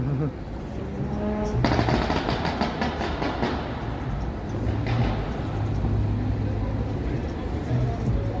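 A loud, poorly running car engine rumbles and sputters nearby on a busy Toronto street on a Saturday evening, with rough clattering bursts over traffic noise and a voice talking.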